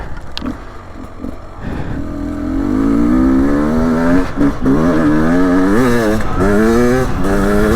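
A 2024 Beta 300 Race Edition two-stroke dirt bike accelerates hard through the gears, pulling a fourth-gear wheelie on a frozen, slick surface; the engine note climbs in a loud, close, continuous rising whine.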